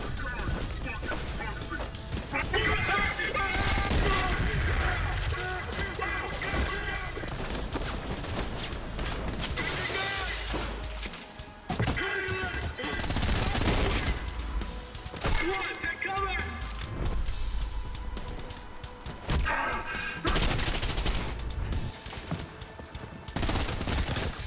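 Gunfire in the first-person shooter Trepang2, rapid automatic bursts and heavy impacts in dense, loud volleys mixed with explosions and game effects, with someone talking over much of it.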